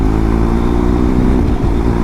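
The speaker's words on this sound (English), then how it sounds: "it sounds so gorgeous now with that exhaust back on" A motorcycle engine with its exhaust refitted runs loudly and close by, a steady deep rumble with a slight dip in the middle and no talking over it.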